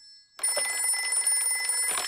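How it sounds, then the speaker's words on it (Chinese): A cartoon telephone rings in a Chinese-dubbed Peppa Pig episode, a steady electronic trill that starts abruptly and continues for about two seconds with no one talking. "也许我应该给办公室打个电话"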